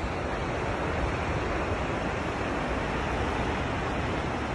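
Takakkaw Falls pours down in a dense, steady roar of rushing water that fills the whole scene without a break, heard loud and near.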